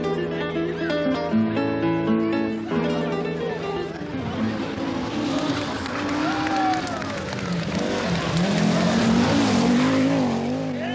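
Audi Quattro rally car racing through Rally Portugal 1981, engine revving and rising in pitch as it passes, partly under music and narration, with a loud surge near the end.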